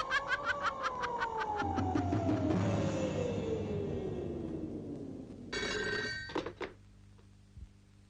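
A telephone bell rings in rapid repeated bursts at the start, loud and close, alongside a long sliding tone and a muffled rumble, from a 1988 Indonesian horror film; it ends with a few brief clatters and no speech.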